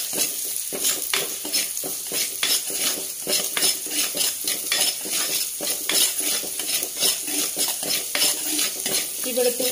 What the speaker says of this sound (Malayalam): വെളുത്തുള്ളി ഇഞ്ചിയും കൂടെ ചതച്ചത് ഇട്ട് കൊടുക്കണം. എന്നിട്ടിത് നന്നായിട്ടൊന്ന് വഴറ്റണേ.